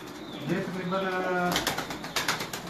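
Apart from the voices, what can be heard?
pigeons at a pigeon keeper's loft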